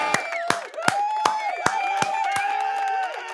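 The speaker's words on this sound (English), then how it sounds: "Let's give her a round of applause" Studio audience applause fills the room with dense, steady clapping and some cheering. It sounds close and sustained from start to finish with no talk over it.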